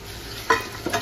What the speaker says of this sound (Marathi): आता ही कोलंबी आपण त्या भांड्यात टाकतोय